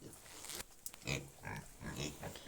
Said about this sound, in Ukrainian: я вам зараз покажу, як ми годуємо свої свині